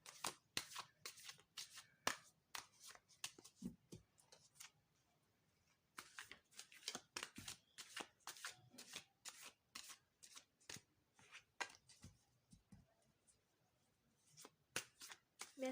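Tarot cards get shuffled close up in repeated bursts of crisp riffling and snapping card edges, quiet overall, with brief pauses between rounds and no talking.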